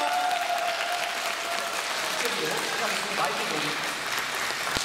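An audience at a musical talk event applauds the cast, director and writer of the musical Battle of Prince, with continuous dense clapping throughout and a brief voice at the start.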